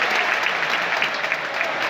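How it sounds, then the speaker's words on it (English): Dense, steady applause from a large crowd fills a sumo arena in Tokyo, a continuous wash of many hands clapping at fairly close range with no pauses, sustained evenly through the whole stretch. "Listen to that applause."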